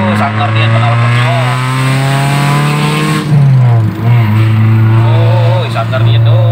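Suzuki Ertiga with a loud aftermarket exhaust revving hard, a deep, close engine roar that rises and dips through repeated throttle blips, with people talking over it.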